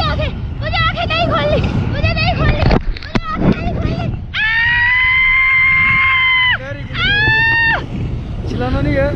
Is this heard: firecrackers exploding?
no